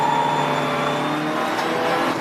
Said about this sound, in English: That's the number 34 car just going through shot